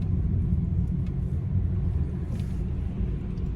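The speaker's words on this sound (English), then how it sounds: "well, I'm gonna fight this traffic down there" Steady low rumble of road traffic heard from inside a car during a rush-hour morning drive, a constant engine and tire drone with no breaks.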